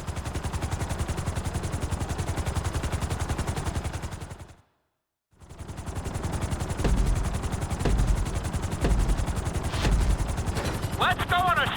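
A helicopter in GTA 5 on a flight school obstacle course and city tour, with a loud continuous rotor beat and heavy clatter that briefly cuts out to silence, then returns.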